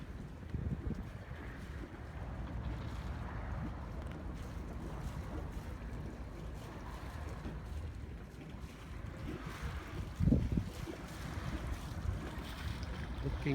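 A sailboat moves under sail with its jib up in light wind, with soft wind rush, gentle water sloshing against the hull and faint creaks, and a brief louder splash or bump near the end.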